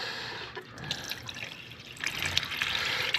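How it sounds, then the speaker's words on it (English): Water drains and trickles from the tandem drive of a 1972 Allis Chalmers M65 road grader, a faint irregular splashing and dripping stream that grows slightly busier toward the end, with no talking. "Over a full coffee can of water out of this side as well."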